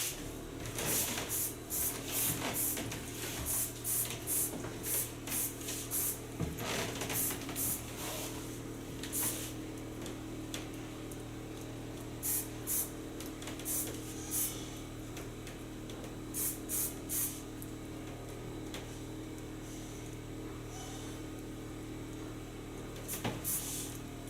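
Hairspray is applied to a woman's soft layered short bob in a salon, with repeated short hissing bursts in irregular clusters over a steady background hum, close and fairly quiet.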